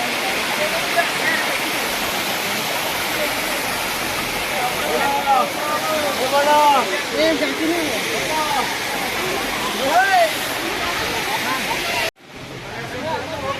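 Rushing water pours down at the Harishankar temple waterfall in Balangir, a loud, continuous roar with faint voices and birdlike chirps scattered over it before an abrupt cut near the end.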